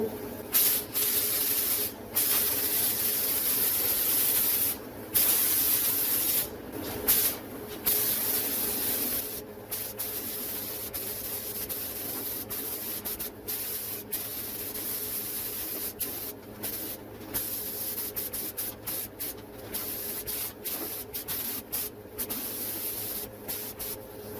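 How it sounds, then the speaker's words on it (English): Steady hiss of a spray gun laying gray paint on a 2001 Chevrolet Silverado 2500 HD part, broken by repeated short pauses as the trigger is released, with a low mechanical hum beneath. "Alright guys, ready to spray. Give it a first coat."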